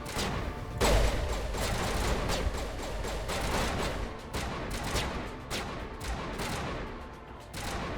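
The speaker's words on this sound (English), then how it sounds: "these guys keep shooting at me" Dense video game gunfire crackles in continuous bursts and volleys, loud and close, with heavier booms mixed in and no pause in the shooting.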